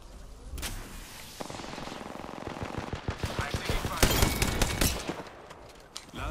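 Apex Legends gunfire, rapid automatic bursts rattling in quick rhythmic volleys that grow louder and denser toward the middle, with sharper shots standing out near the end.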